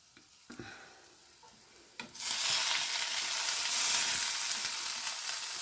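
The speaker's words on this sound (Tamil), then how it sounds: "இப்போ இந்த ஆனியன் நல்லா வதக்கணும்." Onion and green chili sautéing in a pan, a quiet start followed by a loud, steady sizzle and frying hiss from about two seconds on, close up with no talk.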